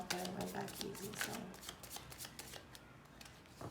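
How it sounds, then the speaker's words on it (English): Tarot cards being shuffled by hand, a quiet run of soft riffling flutters and taps close up, dense at first and then sparser, with no talk. "One more shuffle that I take from the middle."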